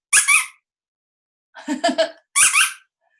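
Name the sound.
squeaker toy imitating a mouse squeak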